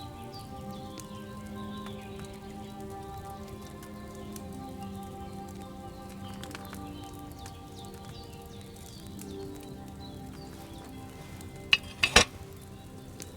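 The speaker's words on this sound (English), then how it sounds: "Hear that bubbling? It's boiling." A potion cauldron in the video game Kingdom Come: Deliverance 2 bubbles and sizzles steadily over a flame, with a constant low hum and a couple of sharp clicks near the end.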